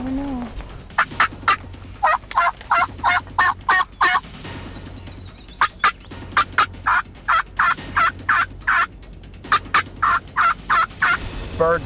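Wild turkeys gobble on a wooded ridge in repeated bursts of rapid rattling calls, several series in a row with short pauses between them, clear and fairly close.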